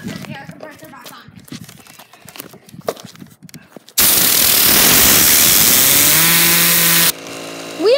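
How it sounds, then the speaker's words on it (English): Air compressor blowing air at a LEGO fidget spinner, a sudden loud, steady rushing hiss that starts midway and runs for several seconds, after earlier clattering and voices, then drops off into a whirring tone. "go turn the air compressor back on."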